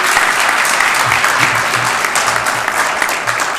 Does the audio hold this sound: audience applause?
yes